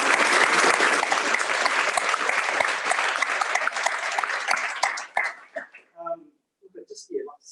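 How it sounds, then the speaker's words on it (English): Applause from the audience at the New Zealand Young Piper of the Year 2020 results, steady and dense for about five seconds, then thinning to a few scattered claps and fading out. "So I think massive round of applause to."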